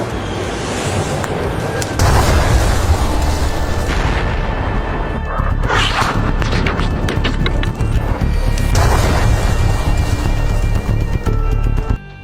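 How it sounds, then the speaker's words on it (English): Bunker buster bombs explode in a heavy, continuous rumbling roar, with blasts and bursts rising over a loud, wind-buffeted background throughout. "This is what these buster bunker bombs look like in action"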